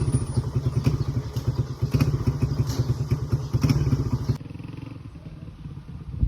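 Motorcycle ridden on a road test after fresh clutch lining replacement, a TMX 125 or similar, its engine throbbing steadily and close with rhythmic thumps and clatter, then dropping to a quieter idle-like drone near the end.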